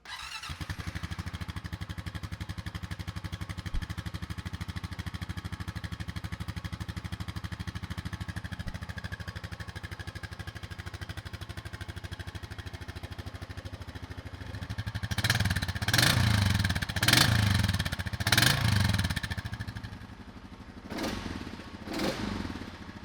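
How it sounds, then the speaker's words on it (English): A 2022 Honda FourTrax Rubicon 520 EPS 4x4 ATV engine idles steadily and close by, then rises in several short revving bursts toward the end, with no talking. "Now let's start it up and show you guys what it sounds like"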